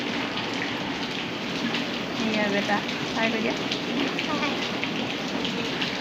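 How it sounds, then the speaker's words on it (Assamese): Heavy rain pours steadily and loudly throughout, a dense continuous hiss close by, with a few voices talking over it. "দেখিছে কেনেকুৱা ডাঙৰ বৰষুণ দিছে।"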